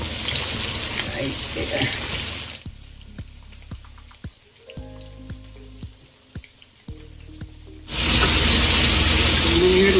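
Steak frying in a pan for smothered steak with onion gravy: a loud, steady sizzle opens and closes the stretch, with a quieter middle where a person speaks over soft clicks and taps.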